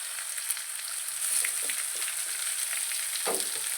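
Chopped potato and tomato fry in oil in a pan, a steady bright sizzle with faint stirring scrapes and one louder clatter near the end, close and without talk.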